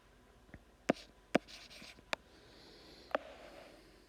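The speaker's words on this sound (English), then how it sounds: "I'm going to write it out, 1/6 plus" A fraction problem is written out by hand, with a few sharp isolated pen taps and strokes against a quiet background, close and sparse with no talking.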